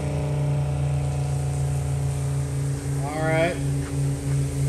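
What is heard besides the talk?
pumps spraying water streams through Super V-Ball nozzle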